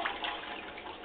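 Faulty toilet in a small Orlando bathroom with plumbing problems being flushed, giving a short, soft rush of running water heard alone and at low volume.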